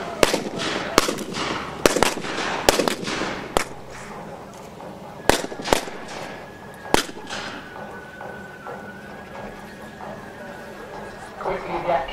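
Cannon broadsides from model galleon warships, a series of sharp cracking blasts in irregular clusters, some overlapping, with a faint whine and a quieter stretch between the volleys.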